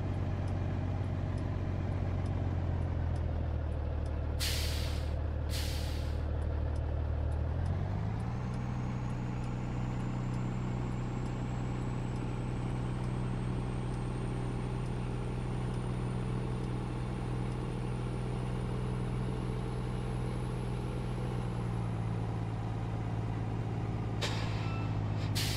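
Truck engine in Farming Simulator 19, a steady loud diesel drone that shifts up in pitch partway through, with short sharp hisses of air brakes near the start and end.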